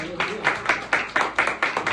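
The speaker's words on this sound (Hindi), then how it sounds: "जोरदार तालियों में" A church congregation in Karachi claps in steady unison, with about eight evenly spaced, bright beats in two seconds and a faint murmur of voices underneath.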